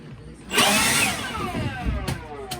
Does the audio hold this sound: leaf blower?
yes